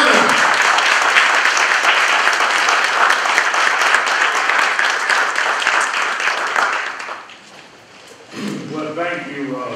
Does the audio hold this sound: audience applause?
yes